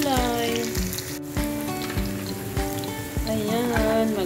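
Garlic and onion sauté in a hot pan with a dense, crackling sizzle that holds steady throughout, close and loud, with light music in the background.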